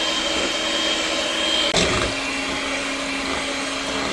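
An electric mixer steadily whirs as it beats powdered sugar into no-bake banana pudding cheesecake filling, a loud continuous motor drone with a brief dip and pitch shift partway through and no talking.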